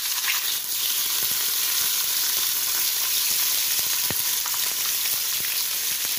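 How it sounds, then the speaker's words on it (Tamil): Onions sizzle steadily in hot oil in a pan, with green chilli and fennel seed among them, as a spoon stirs now and then, making faint scraping clicks over the constant close frying hiss. "வெங்காயத்தை நல்லா வதக்குறோம் ப்ரௌன் ஆகிற வரைக்கும்."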